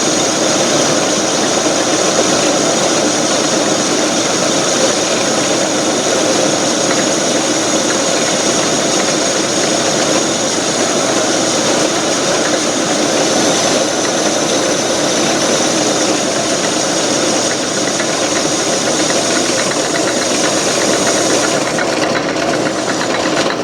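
A Garvin lathe runs continuously while turning a shaft down to half an inch, giving a loud, steady mechanical whir and hum with no breaks and no speech.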